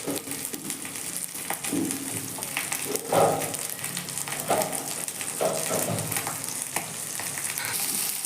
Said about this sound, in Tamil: கேரட் போட்டாச்சு. நல்லா வதக்குவோம்.